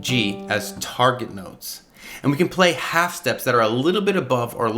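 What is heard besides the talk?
No everyday noise stands out behind the speech.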